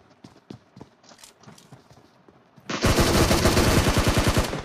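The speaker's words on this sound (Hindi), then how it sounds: "फायर दिया उधर से" Automatic gunfire in PUBG Mobile, where quiet footsteps and scattered clicks give way to a sudden loud, rapid rattle of shots that continues steadily to the end.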